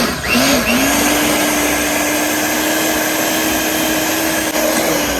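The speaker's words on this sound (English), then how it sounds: "And then we're just gonna use our hand mixer and mix that" An electric hand mixer beats dog treat dough with a loud, constant whirring drone from start to finish, close by and without speech.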